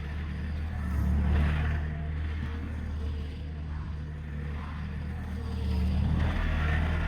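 A John Deere 3320 compact tractor drives round in a figure of 8 after its front axle is topped up with oil, its engine giving a steady low drone that swells and eases slightly as it turns.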